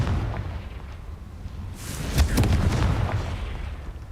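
A Confringo explosive spell fired in Hogwarts Legacy: a quiet lead-in, then a sharp burst and booming blast, followed by a brief rumbling tail. No one speaks.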